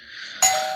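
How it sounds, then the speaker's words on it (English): Doorbell at a home ringing once partway through, rung by a UPS delivery driver, a sudden bright chime that rings on and fades, following a quieter stretch of room tone. "I think the UPS guy just rang my doorbell."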